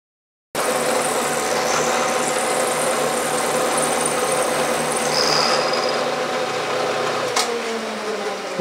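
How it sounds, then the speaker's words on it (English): A knee milling machine runs steadily up close while cutting metal to set the depth on a rack-and-pinion workpiece, its motor hum and cutting whine continuous for about eight seconds. "I will just dial in the depth then with the knee crank on the milling machine."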